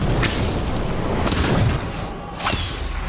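A casting of the Incendio fire spell in Harry Potter Magic Awakened, with a couple of loud whooshing bursts and booms over a roaring rumble and no talk.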